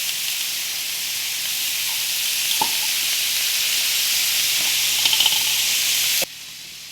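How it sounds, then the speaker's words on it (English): Butter melting with a tablespoon of minced garlic in a pan on the stove gives a soft, steady sizzling hiss with a few faint clicks. It cuts off abruptly near the end, leaving quiet room tone. "I'm going to start melting some butter with about a tablespoon of minced garlic"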